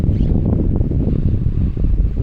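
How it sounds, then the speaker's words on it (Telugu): Wind blowing across open village crop fields, a short burst of loud, buffeting rush against the microphone. "మంచి గాలి వస్తుంది ఇక్కడండి"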